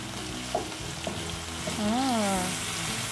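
Kapenta curry with garlic and red onions sizzles in a frying pan as it is stirred and mixed, with scraping spoon strokes over steady frying and a brief sung tone underneath.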